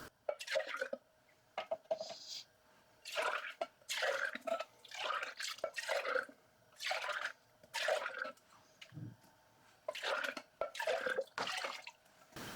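Water sloshed and swished through emptied food cans, then poured into a cooking pot in a home kitchen, giving repeated wet splashing bursts at close range with small drips between them.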